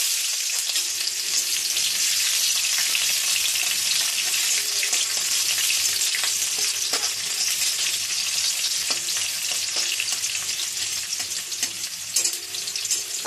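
Chopped onion hits hot spiced oil for a bottle gourd curry with jackfruit seeds, prawns and fish head. A loud, steady, close sizzle of frying runs without a break from start to finish.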